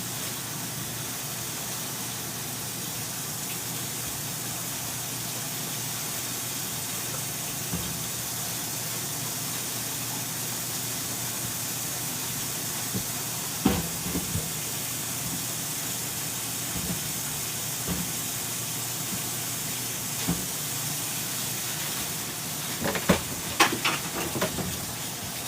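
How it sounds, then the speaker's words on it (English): Tap water runs in a steady, unbroken hiss while potatoes are rinsed in a kitchen, with a few faint knocks and clatters near the end and no talking. "I'm going to rinse off some potatoes that I'm going to put in the pot"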